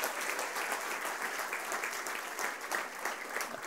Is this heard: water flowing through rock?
no